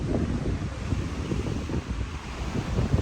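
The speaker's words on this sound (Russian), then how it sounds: "Очень сильный ветер." Strong wind buffets the microphone on a mountain summit near Bariloche, Argentina, a steady loud roar of gusts and rumble lasting throughout with no voices.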